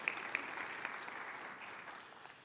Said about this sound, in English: So a big round of applause for all your kindergarten teachers.